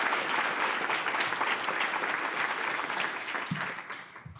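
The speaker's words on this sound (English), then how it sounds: "So real quick round of applause for the Royal Credit Union Foundation" Applause rolls through the room at an awards banquet, a full, steady clapping from a seated audience that gradually thins and tapers toward the end.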